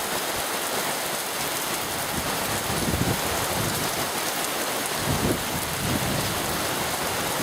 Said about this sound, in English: Just had a major downpour